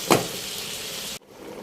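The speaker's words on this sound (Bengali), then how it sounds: "তো আগে চিংড়ি মাছটাকে ভেজে নিই।" Shrimp frying in a pan gives a close, steady hiss of sizzling that starts with a brief louder burst, then cuts off abruptly near the end and leaves a quieter background. No one speaks.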